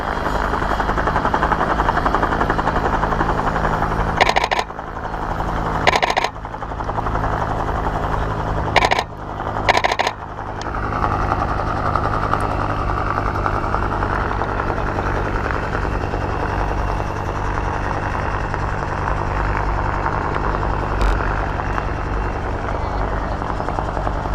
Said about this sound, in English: Past us slowly with the winch simulation ongoing.